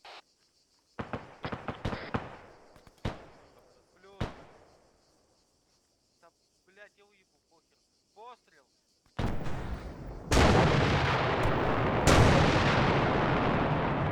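Scattered gunshots crack in bursts in Arma 3, with quiet gaps between and faint footsteps, followed by a heavy, sustained roar of rapid gunfire and explosions.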